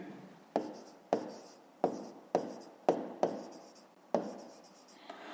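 Pen strokes on paper while working a fifth-grade math exercise: a series of about eight short scratchy writing bursts, each starting with a sharp tap and trailing off, close and fairly quiet with no talk.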